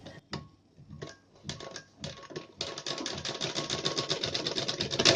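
A sewing machine stitches a designer blouse for a bordered saree, starting with a few separate knocks and short bursts, then settling into a steady, fast, even run of stitching close by.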